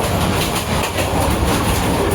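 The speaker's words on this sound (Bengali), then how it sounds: "ঢাকা ময়মনসিং সেকশনে মোহনগঞ্জ এক্সপ্রেস ময়মনসিং থেকে ঢাকা যাইতে দেখেন পাম্পিং কেমন পাম্পিং করতে" The Mohanganj Express runs on the Mymensingh to Dhaka section, a loud close rush of wheels and carriages with rhythmic clickety-clack over a dense, continuous roar.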